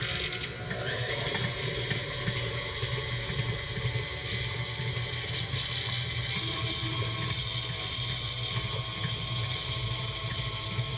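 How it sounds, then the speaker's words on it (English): A KitchenAid Artisan stand mixer churns peanut butter into a mix, giving a faint, steady mechanical whir with a gear-like ratcheting texture. It runs continuously with no talking. "It is a KitchenAid mixer."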